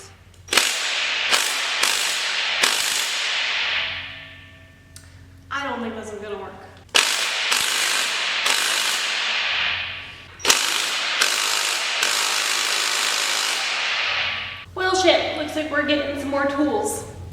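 Impact wrench hammering at the crank pulley of an LS engine in a twin-turbo G-body, loud close rattling bursts of a few seconds each, separated by short pauses in which the spinning motor winds down.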